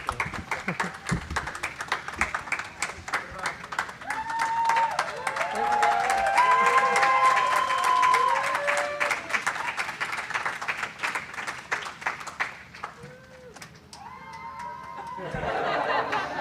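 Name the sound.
audience applause as crew enters the habitat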